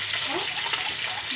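Ginataang kalabasa with upo being stirred in a pot, a dense steady simmer and sizzle with faint scraping, heard close and continuous.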